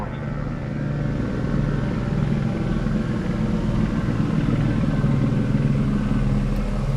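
A police helicopter passes overhead in Los Angeles, heard as a continuous low, thrumming rotor rumble that holds steady and fairly loud with no distinct voices.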